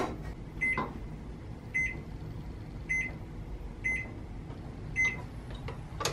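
Oven control panel beeps as it is set to preheat, a string of five short, clear electronic tones spaced about a second apart over a low background hum in a home kitchen.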